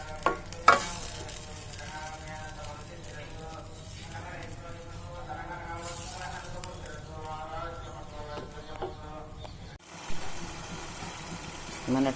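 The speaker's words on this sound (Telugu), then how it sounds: "ఈ టమాటా పేస్ట్ బాగా వేగాలండి." Tomato paste sizzles and fries steadily in a pan for a drumstick masala curry, with a spoon stirring and scraping through it. A voice talks over the continuous frying.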